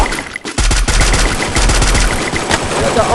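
Rapid bursts of loud gunfire from a shooting video game, in quick repeated volleys with heavy low thumps, filling the whole stretch with steady combat noise.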